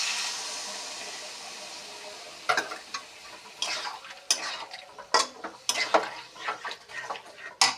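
Broth goes into a pan of moringa drumsticks and tomato for a fish curry, starting with a soft sizzling hiss, then sharp metallic scrapes and clinks of stirring close by.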